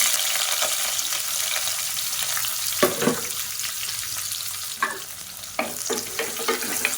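Sliced onions sizzle steadily in a hot pan for a variety rice dish while a spoon scrapes and stirs now and then, close and clear with no talking.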